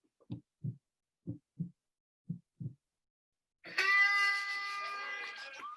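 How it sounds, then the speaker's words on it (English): Three pairs of muffled, low heartbeats thump at a steady pace in near silence while waiting for a race start, followed by a loud, sustained horn blast. "And you can hear my heart beating as we're waiting."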